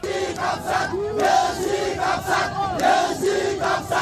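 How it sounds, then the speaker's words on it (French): A large crowd cheers and chants for the army, voices rising and falling in loud repeated waves of shouting throughout. "L'armée acclamée par la population."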